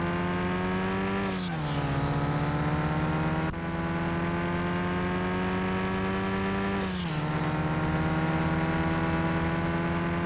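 Engine of a BMW Mini Cooper lookalike in Car Mechanic Simulator 2021 holding a steady, buzzy drone, with two quick revs whose pitch rises then drops, close and loud throughout.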